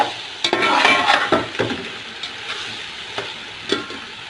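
A spoon scrapes and stirs chicken pulao in a cooking pot, with irregular clinks and scrapes over a soft frying sizzle, close and moderately loud.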